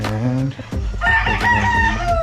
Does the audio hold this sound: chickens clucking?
yes